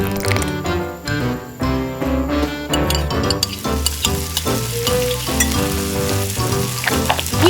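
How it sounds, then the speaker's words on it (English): Miniature masala fish frying in cooking oil, a steady close sizzle with small crackles and clinks, heard under background music. "We fry until golden on both sides."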